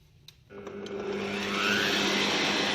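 A stand mixer whirs up to a steady, loud motor drone as it kneads Swiss brioche dough. Light clicks come first, then the hum swells and holds without talk.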